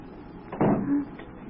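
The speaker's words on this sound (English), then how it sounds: "The door. It's closed behind us." A door swings shut with a single solid thud, close and fairly loud, followed by a brief low ring as it settles, staged as a sound effect in an old-time radio drama.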